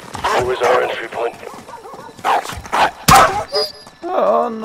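A dog barks loudly in Call of Duty: Modern Warfare, several sharp barks and yips in close bursts, mixed with whimpers and a thump, while voices speak in between.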